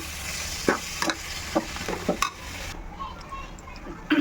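Tomatoes sautéing in a pan for kari kuzhambu, with a steady oily sizzle broken by several sharp spatula scrapes and stirring strokes, close up with no talking.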